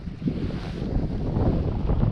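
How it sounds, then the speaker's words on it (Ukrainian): Steady, blustery wind roars across the microphone for the whole stretch while spinning for perch and pike, with a low rumbling buffet and no clear voices. "щось роздувся, сильний вітер"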